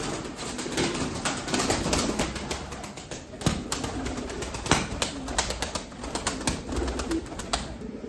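Pigeons coo softly in a loft kept by a Turkish pigeon breeder, their low murmuring calls overlapping alongside scattered rustling and wing flutters, fairly close and steady.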